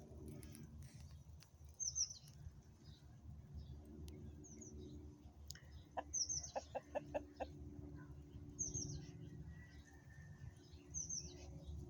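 Quiet clucks and soft calls of a rooster in a pen, mixed with distant chirping birds over a steady low hum.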